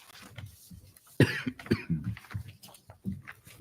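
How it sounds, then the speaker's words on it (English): A person coughs repeatedly during a planning and zoning commission meeting, a burst of sharp hacking coughs in an indoor room, fairly close and alone without speech. "I just got a coughing spell, so this might get awkward"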